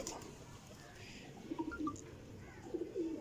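Paired breeding pigeons give soft, faint coos in two short bursts over low background noise.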